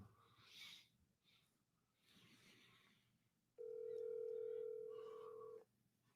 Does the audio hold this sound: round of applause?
no